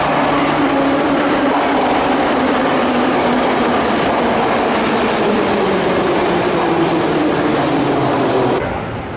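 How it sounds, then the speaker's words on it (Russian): A Saint Petersburg Metro train rolls into the station with a loud, steady rumble and a descending whine of braking, fading as it comes to a halt. "А вот и поезд мой приехал."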